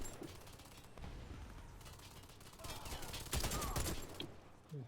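A machine gun fires in the shooter game Warface, a dense rattling burst of rapid shots that swells louder toward the end, with a voice talking over it.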